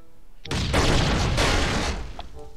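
In the video game Last Island of Survival, explosives blow open a door: a loud blast erupts after a brief pause, followed by a sustained roar of debris and rumble that slowly fades with faint clinks afterward.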